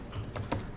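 Keystrokes on a computer keyboard while entering values in Mastercam X6 CAD software, a few soft quick taps close by, faint and without talk.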